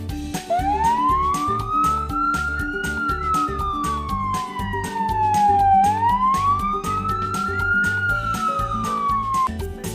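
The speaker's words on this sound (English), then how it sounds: "This is a fire truck." Toy fire truck siren wailing up and down in two slow sweeping cycles, loud and close, over a busy electronic backing loop that runs throughout.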